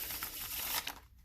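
Playing cards riffled together in a faro-style cardistry shuffle, a close, crisp crackle of flicking cards that runs for about a second, then stops.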